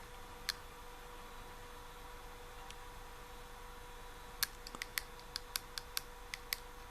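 Buttons on a Smoant Knight vape mod being pressed: a few isolated clicks, then a quick run of sharp, light, slightly rattly clicks, close and quiet over faint hiss.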